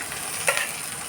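Onions frying in a pan until brown make a brief, steady, moderate sizzle with one small clink partway through, with no voices.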